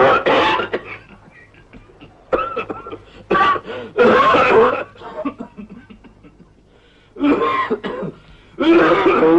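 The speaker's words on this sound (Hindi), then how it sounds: "दिन ब दिन पिताजी की खांसी बढ़ती ही जा रही है।" Repeated bursts of an old father's harsh coughing and throat clearing come in several separate fits with short quiet gaps between them, close and fairly loud, in a 1950 Hindi film scene.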